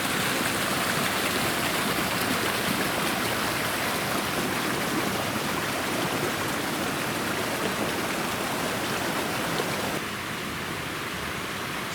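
A trail stream runs with a decent flow, a steady broadband rush of water heard close and continuous. The level eases slightly near the end, with no talking.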